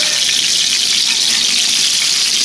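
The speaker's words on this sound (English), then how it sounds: "Like pan frying fish" Steady, dense broadband sizzle of pork chops frying in a cast iron pan, continuous and fairly loud with no pauses.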